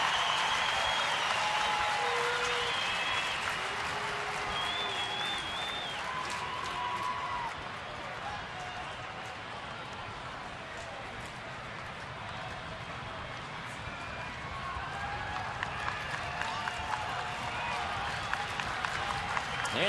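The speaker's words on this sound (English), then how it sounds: "Crowd making some noise now." Baseball stadium crowd at a Chicago White Sox at Detroit Tigers game, a steady roar of cheering and applause that swells and stays loud throughout, with faint distant voices mixed in.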